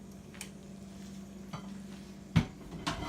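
Chicken and mushrooms stirred in a pan on a hot stove, with soft scraping and a few sharp utensil knocks against the pan over a low steady background hum.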